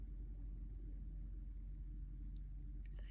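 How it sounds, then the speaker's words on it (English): Faint, distant road traffic from outside, a steady low rumble of cars with no distinct pass-by, heard continuously throughout. "very far away, maybe the sound of the cars"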